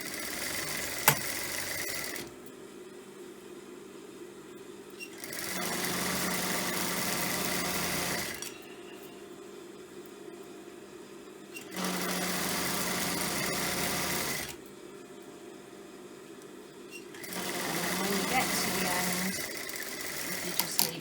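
A sewing machine stitches along the edge of a fabric headband, its steady mechanical whir running in three separate bursts with short pauses between, fairly close and moderately loud.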